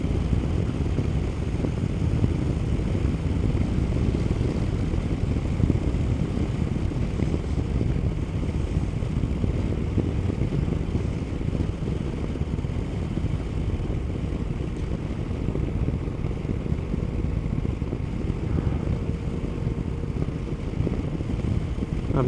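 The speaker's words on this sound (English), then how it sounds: "The throttle is very responsive, and being a triple engine, it really is good." A 2015 Yamaha MT-09 Tracer with a three-cylinder engine is ridden along a road, giving a continuous moderate engine drone mixed with wind and road noise and no speech.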